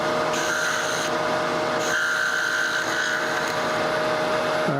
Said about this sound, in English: I'm going to use this as my roughing gouge and my turning gouge. So we're going to round it off.